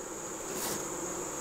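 Honey bees in a small fall swarm hive give off a steady, faint hum, a continuous drone that holds evenly throughout with no talk.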